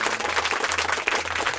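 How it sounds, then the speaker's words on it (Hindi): Steady, dense applause fills a royal court, many hands clapping together in a continuous roar that is alone and moderately loud. "दरबार में तालियों की गड़गड़ाहट गूंज उठी।"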